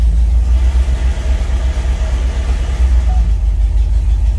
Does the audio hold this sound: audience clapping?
no